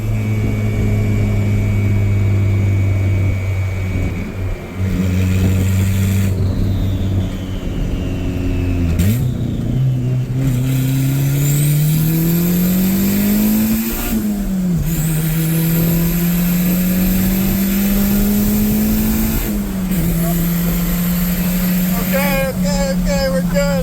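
A turbocharged Honda Civic, rebuilt on a budget, pulls hard through the gears. Its loud engine note climbs steadily, then drops sharply at each of several shifts, with voices talking over the constant roar.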